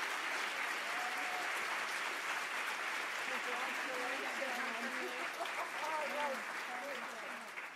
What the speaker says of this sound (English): Please join me in applauding Diane Spatz for her amazing work